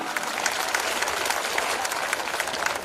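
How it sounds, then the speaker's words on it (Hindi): A live comedy audience claps steadily for about three seconds, a dense even patter of many hands at moderate volume with no talk over it. "थोड़ी तालियां कम हैं आपकी।"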